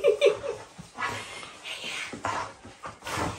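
A dog pants and whimpers in short, soft bursts of breathy sound and small whines while its owner returns home, fairly faint and close by.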